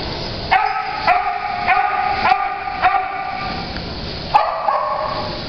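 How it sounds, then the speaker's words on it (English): A talkative six-year-old Australian Shepherd mix named Vegas at a shelter, barking about six times in a steady rhythm, close and loud with short pauses between each bark. "This is a talkative dog named Vegas."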